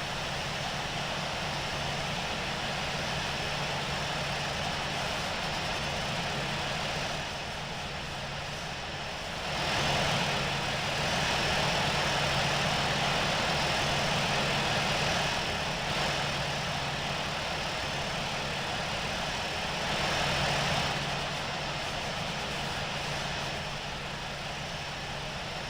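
Airliner engines in the Infinite Flight video game, departing Newark, hold a steady loud broadband roar that swells slightly partway through, consistent with a takeoff run, with no talk over it.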